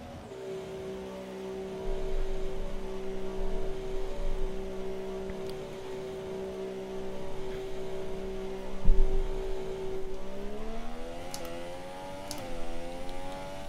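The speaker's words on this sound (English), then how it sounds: "Just let me know how if you can still hear the engine okay," A race car engine in a racing video game set at the Malaysia round holds a steady, sustained drone and then rises in pitch toward the end, heard at moderate level under a noisy, hissing background.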